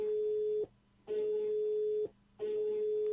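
A steady telephone tone from the puzzle game Rusty Lake Hotel sounds in three long, loud beeps separated by brief gaps, clear and alone.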